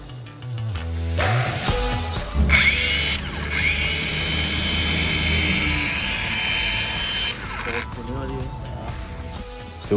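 A Bosch GWS 18V-15 SC cordless 150 mm angle grinder spins up to a loud, high-pitched whine, runs steadily for several seconds, then winds down, with speech before and after.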